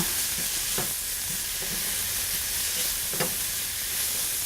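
Chorizo frying in a pan, giving a steady loud sizzle throughout with a few faint stirring scrapes over it.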